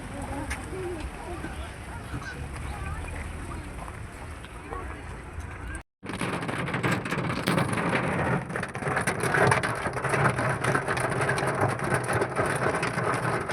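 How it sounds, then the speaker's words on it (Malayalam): Heavy rain pours at the Ponmudi hill station in Kerala, a dense continuous hiss of drops drumming on surfaces that cuts out briefly and then returns even louder, with people speaking now and then. "ഭയങ്കര മഴയായിരുന്നു"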